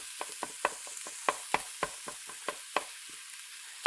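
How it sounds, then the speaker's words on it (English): Sausage meat browning in a pot for chili, with quiet sizzling and a series of soft scraping taps as it is stirred, close and faint. "So let's get the sausage meat in there first. Make sure we get that all browned up nicely."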